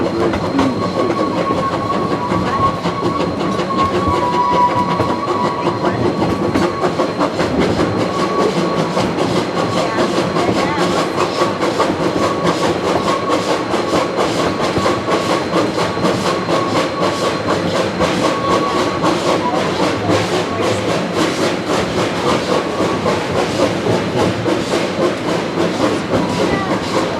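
A steam train labors up a steep railway, loud and near, with continuous rumbling, rhythmic clatter of wheels and a faint hiss, no voices.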